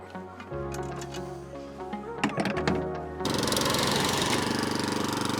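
A lawn mower gives a lawn its second cut while striping it: the engine idles with an uneven rattling chug, then surges into a loud, steady mowing roar.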